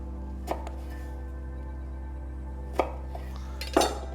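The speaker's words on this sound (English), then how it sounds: "take that same lime, we're just gonna cut it again. Cut it into little wedges" A knife cuts a lime into small wedges on a board in a home kitchen: three sharp, separate knocks spaced a couple of seconds apart over a steady low background hum.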